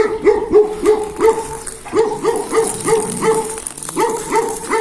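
A dog barks repeatedly in quick, yappy bursts, close by and loud, with short whimpering yips between the barks.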